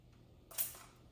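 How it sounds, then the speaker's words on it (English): An Evo oil sprayer gives a brief hissing spritz of oil into a pan, a single soft burst of spray close by in an otherwise quiet kitchen. "So I'm gonna use my Evo oil sprayer and just give it"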